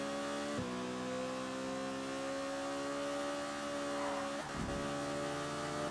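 A V8 Supercar engine in the racing game ToCA Race Driver 2 holds a steady high drone, dropping pitch sharply at two gear shifts before climbing again, loud and continuous with no talking.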